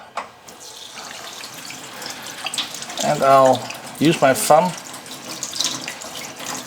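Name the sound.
running water from a tap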